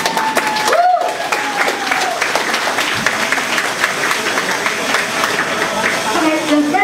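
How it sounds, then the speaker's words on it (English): A crowd at a dance competition applauds the competitors continuously, a dense wash of clapping that holds steady for several seconds, with a voice briefly audible over it. "Please give all the competitors a big applause"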